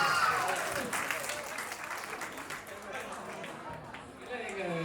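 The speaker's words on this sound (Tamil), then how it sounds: "எல்லாரும் ஒரு பெரிய கைதட்டல் கேட்டுக்கொள்கிறோம்" Audience applause for the chief guest at a toddlers' summer dance festival, a steady wash of clapping from a crowd with an announcer's voice and chatter running over it.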